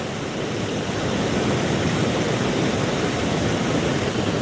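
Rushing peaty brown water on the Rochdale Canal after rain roars in a loud, steady, broadband wash, close and unbroken with no talk over it.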